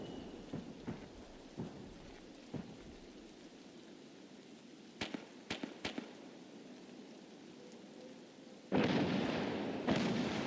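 Distant mortar strikes in the video game Escape from Tarkov land as a few sharp, separated booming impacts amid rain and rumbling thunder, followed by a heavier, louder blast near the end.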